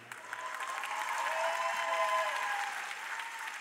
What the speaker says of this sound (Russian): Не пойму, почему вы аплодируете.